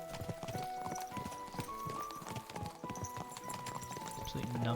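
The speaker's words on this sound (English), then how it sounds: "Watch out with that horse!" A horse's hooves clip-clop in the medieval game Kingdom Come: Deliverance 2, a quick run of nearby knocking steps under constant chatter from voices.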